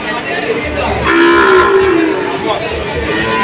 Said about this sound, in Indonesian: Mantap sapi nih, limosin.